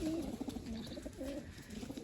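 Pigeons coo softly close by, with low, rolling calls repeating over a faint background hum.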